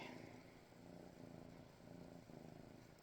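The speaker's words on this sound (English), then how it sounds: "Artemis, you're distracting with your purring there" A cat purrs softly and steadily up close, a low continuous rumble with a faint hiss over it.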